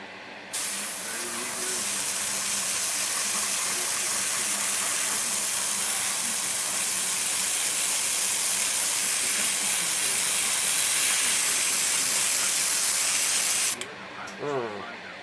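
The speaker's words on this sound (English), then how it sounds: "I got my airbrush ready to go. So I'm just going to start spraying in the inside here." A continuous airbrush hiss spraying paint inside a 1:24 scale DeLorean model kit, steady and close for about thirteen seconds, then cutting off abruptly.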